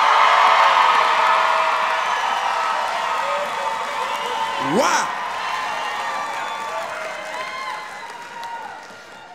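A school convocation audience cheers loudly, a dense roar of yells and whoops that starts at full strength and slowly tapers off, with a brief spoken exclamation partway through.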